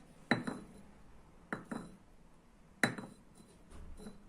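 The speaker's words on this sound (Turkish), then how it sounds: "Evet tabağa döküyorum." A coffee cup is turned over onto a saucer, giving three sharp ceramic clinks spaced about a second apart, each with a short rattle, close by in a quiet room.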